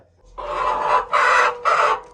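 A broody hen being settled onto eggs clucks and squawks in three loud, close bursts, the calls running together with short pauses between them.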